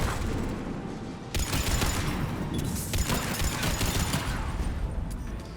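Dense gunfire from Mass Effect 3 gameplay on the Grissom Academy mission, with bursts of overlapping shots and booms. The loud, continuous fire swells sharply after the first second and keeps going without pause.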